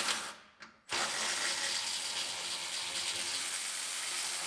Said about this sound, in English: Now we can unbolt the top.